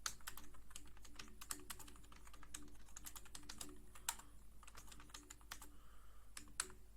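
Rapid clicking of a computer keyboard as someone types code, the keystrokes close and quiet, arriving in quick irregular bursts with brief pauses and a couple of louder taps, with no speech.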